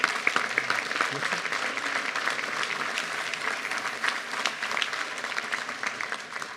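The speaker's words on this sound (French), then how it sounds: "Je crois qu'on peut l'applaudir" A French town audience at a New Year's wishes ceremony applauds, a sustained even patter of many hands at moderate distance, steady for several seconds and easing slightly at the end.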